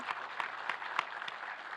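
Faint applause from a crowd, a soft patter of clapping at a distance.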